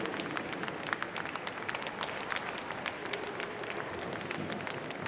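Spectators at the Crufts 2005 dog show clap in a broad, continuous patter, the applause heard at a moderate distance in a large hall, even in level throughout with no voices rising above it.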